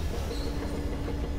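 A train in Metro Exodus rumbles past, a loud continuous low roar with metallic rattling and a faint thin whine on top, steady throughout with no speech.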